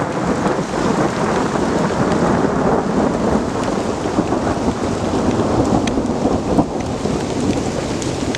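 Steady, heavy rain drumming around a bushcraft shelter during a thunderstorm, with low thunder rumbling continuously underneath and no voices.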